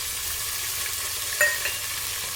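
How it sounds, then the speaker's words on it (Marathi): Chopped coriander and fenugreek fry in oil for a Maharashtrian mixed-vegetable dish, giving a steady soft hiss with a single brief scrape of stirring midway and no speech. "तेलामध्येच आपल्याला सर्व भाज्या टाकून घ्यायचं आहे, जे की रंग पण हिरवा राहील आणि भाज्यासुद्धा तेलामध्ये छान तळल्या जातील"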